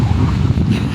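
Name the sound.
strong wind blowing at the coast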